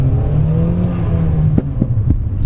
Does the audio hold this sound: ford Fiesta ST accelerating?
yes